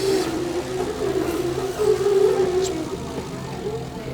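Crown RD5220-30 3,000 lb electric forklift driving, a low steady electric whir and hum of moderate loudness with a faint rising whine, heard alone without talking.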